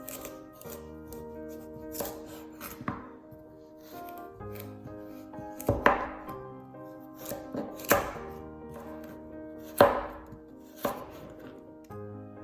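A knife slices vegetables for Asian pickles into thick slices on a cutting board, each cut landing as a sharp, close chop with scraping between, spaced every couple of seconds over background music.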